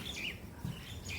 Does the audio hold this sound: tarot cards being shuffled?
no